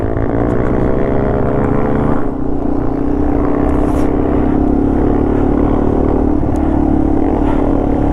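A Yamaha TW200 motorcycle rides a Colorado trail, its engine droning steadily and loudly for the whole stretch, with a slight dip in pitch partway through as the rider shifts or eases off.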